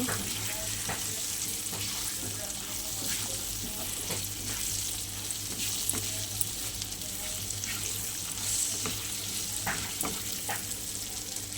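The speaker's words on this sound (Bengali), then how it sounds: "এবার আমি একটু ভালো করে ভেজে নিই।" Potatoes with cumin, chili and turmeric powder, cooking for a tilapia curry, fry in oil with a steady close sizzle and intermittent light stirring scrapes and taps throughout, no speech.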